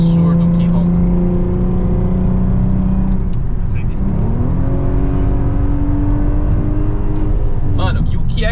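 The exhaust of a lowered Volkswagen Passat on air suspension revs loudly up close, its engine note rising and falling through several throttle blips, with people talking over it.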